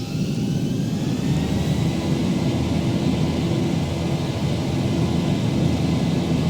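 Airliner jet engines in the Zibo 737 flight sim spool up to takeoff thrust, a loud, steady, deep roar with a faint whine above it, no speech.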